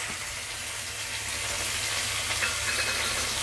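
Chopped tomato goes into hot spiced oil in a pan for a potato and paneer dish, giving a steady close broadband sizzle that swells slightly as it continues, with no talking.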